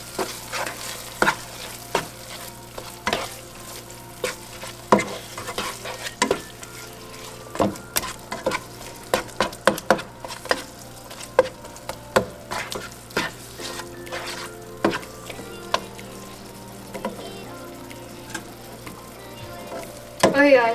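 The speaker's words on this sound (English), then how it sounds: "Now I'm going to give this a mix." Stirring pasta sauce with green onions in a pan, with repeated scraping, clattering strokes of a utensil against the pan over a soft, steady sizzle, close and irregular in rhythm.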